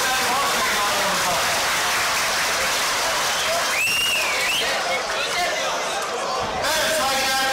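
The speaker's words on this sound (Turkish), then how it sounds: "aziz seyircimden bir moral alkışı istiyorum" A crowd applauds steadily at a traditional Turkish oil wrestling festival, the dense clapping continuous and loud throughout, with faint voices and a brief tonal sound mixed into the wash.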